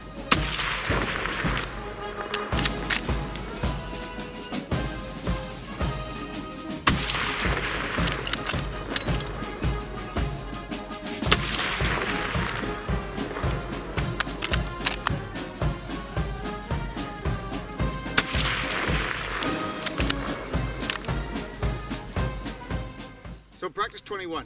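Lee Enfield SMLE No1 Mk III* rifle firing five-round slow rate from 300 yards, shooter kneeling behind cover. Loud, sharp shots ring out several seconds apart, with voices talking between them.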